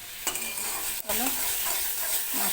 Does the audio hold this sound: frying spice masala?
yes